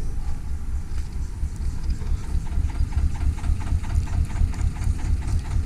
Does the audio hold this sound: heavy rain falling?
no